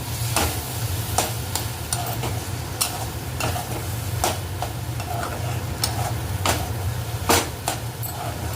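Greens cooking in a pan after flour mixed with water is added give a steady, close sizzle. A utensil stirs and knocks against the pan at irregular intervals over it.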